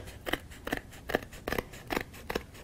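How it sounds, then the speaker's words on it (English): Scissors trim the edge of a handmade dragonfly circle card in six crisp, evenly spaced snips, close and clear with no talk. "As long as you keep your scissors sideways, you won't cut into your top frame"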